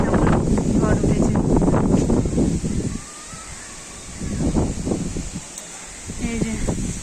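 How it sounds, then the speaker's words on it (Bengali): Strong storm wind gusting among coconut palms, a loud, continuous buffeting roar with rustling leaves that drops briefly in the middle and then surges again. "চারিদিকে দেখো কেমন ঝড় উঠেছে।"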